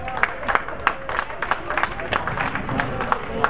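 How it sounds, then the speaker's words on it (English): An audience at Simi gives a brief round of applause for a handicap division runner-up, with scattered individual claps and a light crowd murmur. "Give him a nice hand as well"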